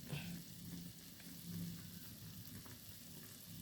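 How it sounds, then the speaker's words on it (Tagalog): Chicken adobo in soy sauce and vinegar with pepper and bay leaves bubbles in a pot, a soft steady simmering sizzle that stays faint and even throughout, no speech. "Pakukuluan po nating mabuti hanggang sa maluto."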